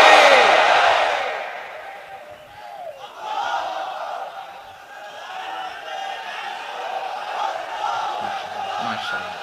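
A large crowd at a sermon roars out the takbir chant, Allahu Akbar, in a loud swelling wave that fades and rises again in repeated calls.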